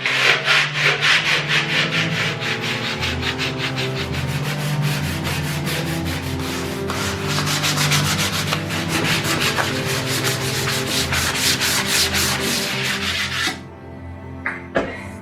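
Rough, usable wood being sanded for a resin table, a continuous close rhythmic rubbing and scraping with rapid back-and-forth strokes, stopping abruptly near the end with a couple of light knocks.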